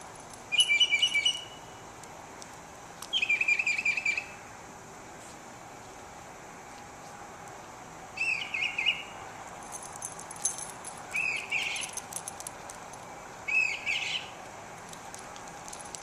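Birds chirp outdoors in the early morning in several short, bright bursts spaced across a quiet background, moderately near.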